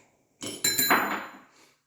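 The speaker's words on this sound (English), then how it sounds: "we're going to place the washers and tighten the nuts all the way down and a quarter turn back." Nuts being tightened down on the washers of an MTX 1 3/4 Victory cartridge seal fitted to a 3196 centrifugal pump, heard as a few close metallic clinks and knocks in quick succession, then fading.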